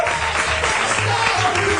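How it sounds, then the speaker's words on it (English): A crowd applauds at a 2002 school event, steady dense clapping filling the whole moment with some voices and cheering mixed in underneath. "let's give him a round of applause"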